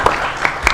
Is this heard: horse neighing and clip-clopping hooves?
no